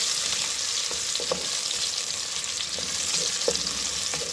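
Chopped onion frying in hot oil in a pan for bathua aloo saag, a steady close sizzle throughout with a few soft stirring knocks.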